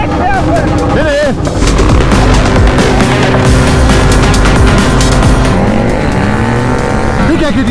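A tuned 170cc scooter engine revs hard and loud up close, a continuous high-pitched roar with rising and falling pitch, while voices talk and shout over it.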